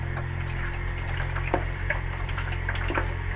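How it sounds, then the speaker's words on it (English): Running water rinses a freshly developed collodion wet plate photograph in a mobile darkroom, a steady splashing trickle with small drips, close by and continuous, with no talking. "I have to rinse a little bit more here."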